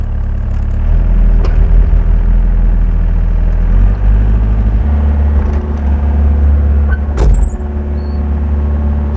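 A loud excavator engine runs close by with a steady low rumble, its pitch and load shifting partway through as the machine swings, with no talk.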